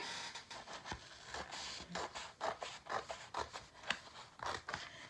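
Scissors cut through a marble-pattern sheet with a sticky backing, making a run of short, crisp snips and scraping strokes that are close and fairly quiet, with uneven spacing.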